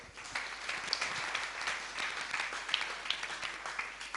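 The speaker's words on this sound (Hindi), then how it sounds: "ताली कहाँ बजना आपको पता हो, सेटिंग पूरी प्रॉपर है।" An audience at a Jain monk's sermon in Bhopal breaks into steady applause, a continuous wash of many hands clapping throughout, moderately loud and fairly close.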